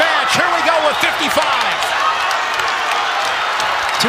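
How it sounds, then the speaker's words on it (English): Wrestling arena crowd at a Big Ten dual meet, Iowa at Michigan, roaring and cheering loudly in a steady, dense wash of noise, with a commentator talking over it. "Crowd is really into this one. This is the loudest this crowd has been"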